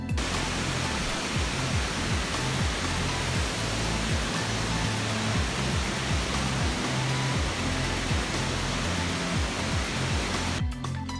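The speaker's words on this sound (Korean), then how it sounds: "작은 규모의 폭포이기는 하지만 뜨거운 여름에 노스캘리포니아 땡볕 아래에서 뭔가 탁 트인 채 콸콸 흐르는 폭포를 만났을 때" Burney Falls in Northern California rushes in a broad, steady roar of falling water, loud and unbroken throughout, heard alone without voices.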